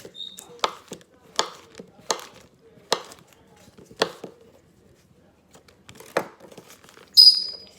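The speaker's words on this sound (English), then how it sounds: "I usually cut my margarine in cubes" Firm margarine being cut into cubes with a knife on a cutting board, about eight distinct chopping taps spaced roughly a second apart, close and clear, with quiet pauses between and a brief brighter scrape at the end.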